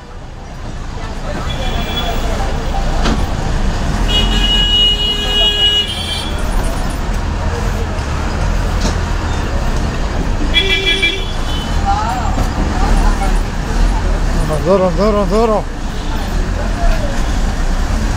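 Horns toot over the steady rumble of a bus riding from Tenali to Chinapulivarru, with road traffic noise and passengers chattering and talking throughout.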